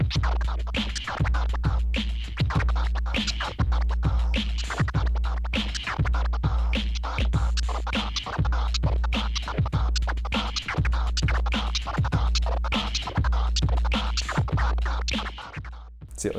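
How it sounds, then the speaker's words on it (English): DJ turntable autobahn scratch, rotated to start on the back pull, repeats in a steady rhythmic loop of sharp record scratches, loud and close with a thumping beat underneath, no talking. "you rotate the scratch. So rather than starting at the start, you start on the third part of the scratch"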